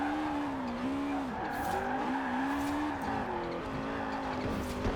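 Honda Prelude with a VTEC engine in Forza Horizon 4, revving high with a steady whining engine tone that dips and climbs repeatedly, accompanied by tire squeal, loud and close with no talk.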